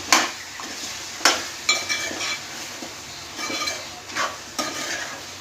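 Chicken curry with onions frying in a pan while a spoon stirs it, with a steady sizzle and sharp scraping strokes at irregular intervals, close and clear with no talking.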